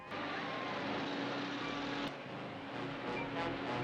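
Cars driving off in a cartoon: a steady, dense engine rumble and road roar that holds at an even loudness throughout, with a brief click partway through.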